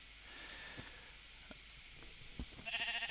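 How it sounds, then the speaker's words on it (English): Sheep bleating in the video game SolitaryCraft, a few short faint calls over a steady ambient game hum, with a brighter game sound near the end. "Ooh, sheep."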